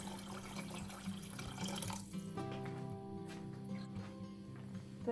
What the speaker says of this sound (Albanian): Do t'i hedhim rreth 1 litër ujë.